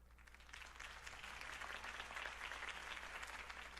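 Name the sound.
applause in a video game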